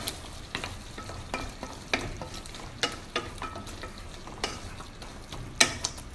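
Chicken Bicol Express sprinkled with chili flakes gets stirred in a frying pan, sharp scraping strokes landing in an uneven rhythm over a constant low sizzle, with no one speaking.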